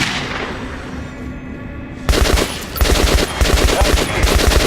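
Weapons test-fired at a shooting range in Metro Last Light: after a quiet stretch of room tone, sharp rapid bursts of gunfire ring out close and loud in several clustered volleys.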